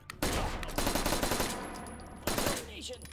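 Rapid, continuous automatic fire in H3VR from a weapon with a stuck trigger, loud and close, rattling on in long sustained bursts with a brief break before another stretch of shots.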